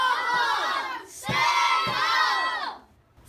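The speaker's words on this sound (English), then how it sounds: "the crowd outside was even larger." A crowd shouting outside a school in a children's puppet play, massed young voices yelling in two loud surges separated by a brief dip.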